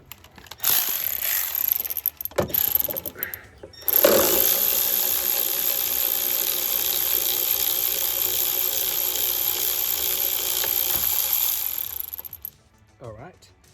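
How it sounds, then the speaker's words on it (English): Ratcheting spanner working a radiator bolt loose on a 2009 Jeep Liberty KK: a few short clicks, then a long, continuous, fast ratchet chatter lasting about eight seconds before it stops, close and fairly loud. "So we have to take that one out using a ratcheting spanner."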